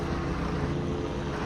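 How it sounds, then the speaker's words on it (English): A news helicopter hovers overhead during large student protests at UCLA, its steady, droning rotor rumble filling the air continuously. "Fox helicopter is what you're hearing."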